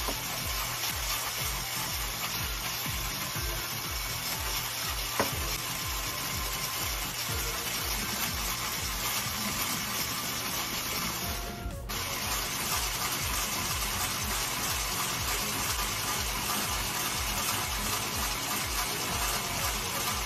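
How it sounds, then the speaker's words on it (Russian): An electric mixer whips cream with sugar for a cake, a constant close whirring drone with a rhythmic pulse that runs unbroken throughout, with no talking. "Постепенно добавляем мощность миксера"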